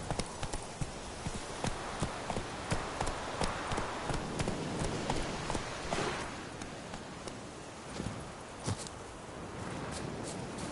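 Roach, a horse in The Witcher 3, trots along with a steady, close rhythm of hoof clip-clops. Faint background sound from the game sits underneath.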